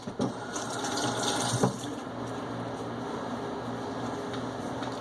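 A tap runs steadily for hand washing at night, with a continuous close rush of water, a couple of brief splashy bumps early, then an even flow to the end.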